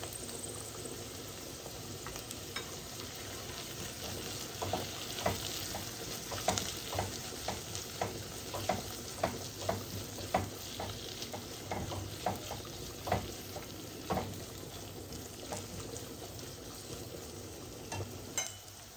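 Onions and pickled cucumbers fry with tomato paste in a pan, producing a continuous soft sizzle with regular scraping and stirring knocks throughout, fairly quiet and steady.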